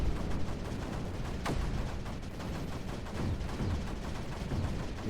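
Mortars fire in the Creeper World 4 strategy game, a dense continuous barrage of low thuds and crackling impacts that runs steadily throughout with no voices over it.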